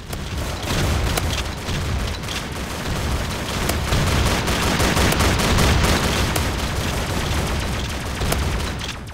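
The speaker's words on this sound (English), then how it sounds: "I'll save all of you with my shotgun." Rapid, continuous gunfire in a zombie video game, with shotgun blasts and booms layered into a dense, unbroken barrage that stays loud throughout.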